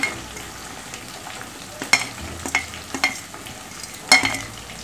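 Capsicum stir-fries with ginger garlic paste in a pan for soya chilli, making a soft continuous sizzle marked by a few sharp spatula knocks and scrapes, with no voices.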